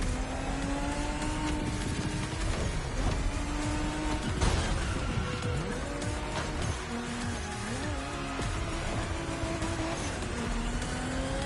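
A Toyota Supra engine drones and revs through a long drift in The Crew Motorfest, the pitch rising and falling with gear changes and steady tire noise, loud and continuous with no talk.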